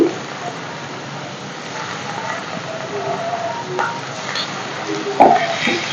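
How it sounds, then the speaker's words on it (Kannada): Chopped onions and green chillies frying in oil in a pan for dal palak, giving a soft continuous sizzle with occasional stirring clicks and a louder scrape near the end. "ಈ ರೀತಿ ನೀಟಾಗಿ ಫ್ರೈ ಮಾಡ್ಕೋಬೇಕು"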